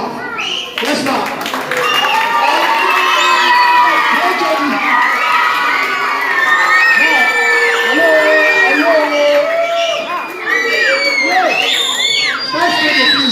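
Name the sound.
school students screaming and cheering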